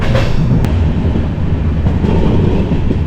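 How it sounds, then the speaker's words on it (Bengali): NJP-Alipurduar Vistadome train pulling out of Madarihat station: a loud, steady rolling roar of wheels and carriages with faint rhythmic clatter, no voices. "সময় 12:49 আমাদের ট্রেন মাদারিহাট থেকে ছাড়লো"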